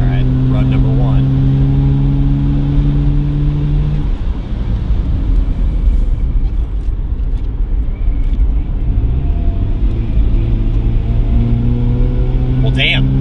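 A Mazda RX-7 driving hard during a brake-pad bedding run, its engine droning loud and steady close by, with pitch rising and falling through repeated acceleration and braking, no talk.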